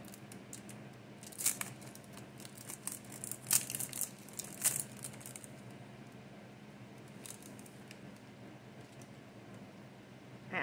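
Nail art foil is handled and crinkled, giving a few soft, crackly rustles and brief crisp bursts against a quiet background.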